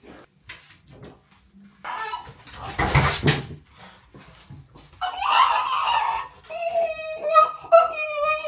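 Dogs whimper and whine in short high bursts at close range, mixed with some rustling and a brief burst of handling noise, with no speech over them.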